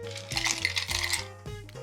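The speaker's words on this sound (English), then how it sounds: "then we'll grab a glass, fill it up with ice" Ice cubes tumbling into a glass while a Painkiller cocktail is made, a short dense burst of bright clinking and clattering over a steady background tone.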